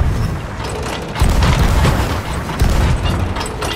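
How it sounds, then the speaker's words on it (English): Cannon fire from a ship in Sea of Thieves booms in heavy repeated blasts, two strong thumps standing out over a rough, noisy battle background, fairly close and loud. "Keep shooting everyone on cannons right now."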